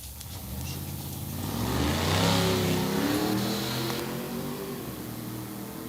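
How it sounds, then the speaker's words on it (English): A 1994 Chevy 1500 pickup truck at a drag strip, its engine revving and accelerating loudly, building to a peak midway before easing, with no talking. "Matt Helms coming up in the 94 1500 Chevy pickup truck next."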